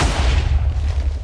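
A cannon fires in a Minecraft WarGear battle, a loud deep booming blast with a heavy low-end rumble that fills the brief moment, with no talk.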